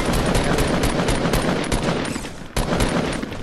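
Sustained, loud automatic assault rifle fire in Fortnite, with rapid shots packed closely together and a brief break midway before the firing resumes.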